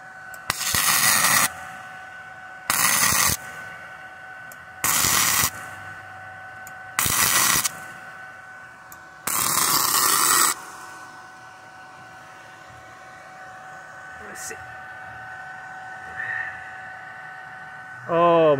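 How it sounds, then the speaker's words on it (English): A welder lays short bursts of arc onto a hook on a refurbished clutch pedal, five loud hissing pulses of about one second each separated by pauses, followed by quiet hum and a faint tail at the end. "now he's gonna weld the hook."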